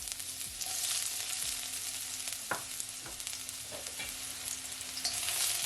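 Garlic frying in sesame oil in a wok, a steady close sizzle with occasional scraping stirs and small pops, with no voices.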